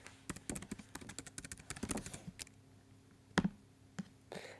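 A password is typed on a computer keyboard: a quick burst of close, crisp key clicks at first, then slower isolated taps, all faint with no voices.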